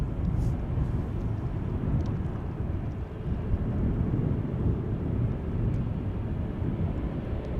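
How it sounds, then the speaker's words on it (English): An Aegean Airbus A321neo airliner moves toward the center runway at Amsterdam Schiphol, giving a continuous low, rumbling jet roar that holds steady throughout with wind buffeting the microphone. "A321 Neo from Aegean on its way to the center runway"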